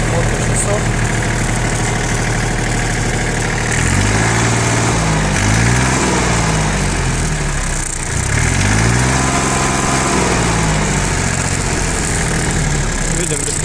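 Yanmar FX22D Japanese mini tractor with a diesel engine and rotary tiller, idling steadily up close, its rumble rising and falling twice with throttle changes, while someone speaks over it.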